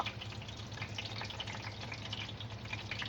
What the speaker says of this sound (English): So you allow it to fry.